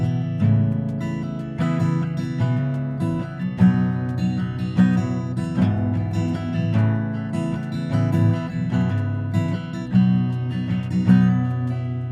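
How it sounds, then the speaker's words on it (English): An acoustic guitar strums a chord progression, picking selectively across the strings in a steady, even rhythm with bright repeated chord attacks, close and clear, with no talking. "So we are strategically strumming some of the strings and strategically strumming other strings"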